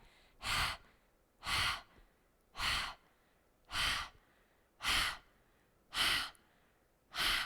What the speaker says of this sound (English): we're going to start with open mouth, like you're panting like a dog